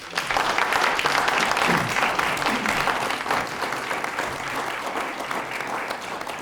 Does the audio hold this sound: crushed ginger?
no